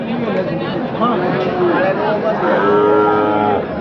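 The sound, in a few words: bull mooing at cattle market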